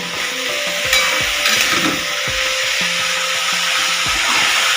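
Potatoes frying with black cumin in a pan, a steady sizzle running throughout with intermittent scraping and stirring knocks from a utensil, close and fairly loud.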